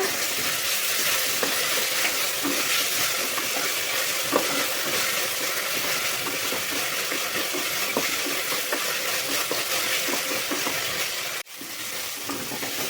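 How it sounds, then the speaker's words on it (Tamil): Ginger garlic paste sautéing in a pan for chicken biryani, giving a steady, close sizzle with faint scraping stirs throughout, a brief dip near the end, no voices. "இஞ்சி பூண்டோட பச்சை வாசம் போகிற அளவுக்கு வணக்கிக்கோங்க"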